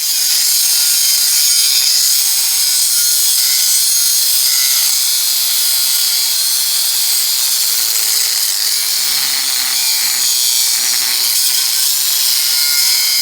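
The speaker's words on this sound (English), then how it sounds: "now I'm just gonna clamp this in the vise and cut these as straight as I can so I have 4 as even as I can get split" Metal clamped in a vise is cut steadily by hand while making throwing stars, giving a continuous, loud, bright rasping sound with no pauses.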